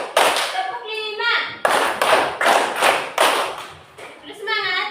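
A group of children clap together in a counted classroom exercise, sharp bursts of claps in rhythmic clusters separated by short pauses, with a voice audible between them.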